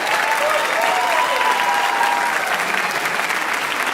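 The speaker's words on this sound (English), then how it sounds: "A round of applause for our trombone section back there." An auditorium audience applauds the trombone section of a band at a dedication ceremony, a loud, dense, continuous clapping that holds steady with a faint overlapping tone.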